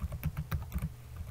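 A computer keyboard is tapped in a brief burst of soft, close keystrokes, around eight clicks in just over a second, faint and with no voice over them.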